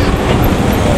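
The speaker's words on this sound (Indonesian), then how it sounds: "kita tunggu kereta api Malabar dan juga kereta api Pasundan yang akan melintas di sini" A passenger train rumbles past nearby in Indonesia, near Kiaracondong station, a loud, dense roar of rolling wheels and rushing noise filling the whole brief moment.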